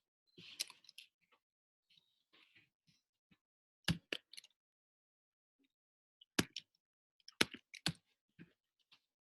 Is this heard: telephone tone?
no